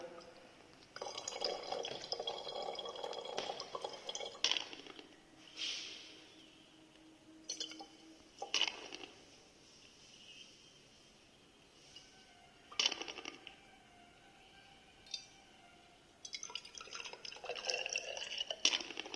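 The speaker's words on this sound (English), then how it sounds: "so now you add water." Water being added to a 250 mL volumetric flask in a chemistry practical, faint intermittent trickles and drips of pouring liquid with small glassy clinks, in short bursts separated by quiet pauses.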